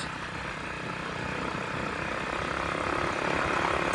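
Riding a $150 pitbike brought back to running after 10 years: a loud, continuous broadband roar of wind buffeting mixed with engine drone, rising slightly toward the end, with no talk.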